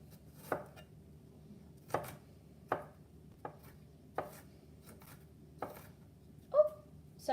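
An onion is chopped on a cutting board with about eight sharp, separate knife strikes at an uneven pace in a quiet room, close and clear, and no one speaks.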